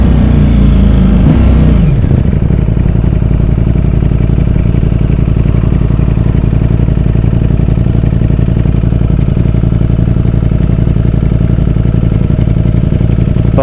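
A Ducati Streetfighter V4S motorcycle engine idles loud and close with a steady, throbbing rumble, after a brief throttle blip at the start.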